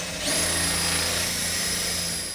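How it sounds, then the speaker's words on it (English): A power drill whirs up to speed and runs steadily at a high pitch for a couple of seconds, close and loud. "while you do the drilling"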